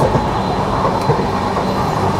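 Crowded passenger train running steadily, a continuous close rumble of wheels and carriage noise filling the whole stretch with no voices.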